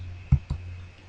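Two quick, soft mouse clicks close to the mic while selecting a cell in an Excel spreadsheet, set against a low steady electrical hum, with a third tap right at the end.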